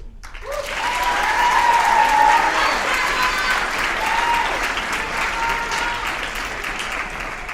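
Audience applause for presenters at a writers' event swells quickly and holds as a dense, even wash of clapping, with faint voices and a brief whoop mixed in.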